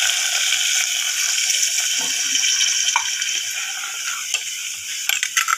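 Water running steadily while rice is rinsed in a kitchen, a continuous hiss with light splashing and a few brief clinks near the end, no voices.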